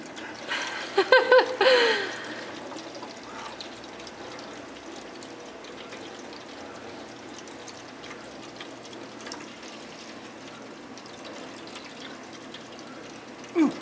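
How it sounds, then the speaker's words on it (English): Water splashes and trickles steadily in a fountain, with a brief louder burst of splashing near the start, then a continuous gentle patter throughout. "Oliver, you're splashing everybody."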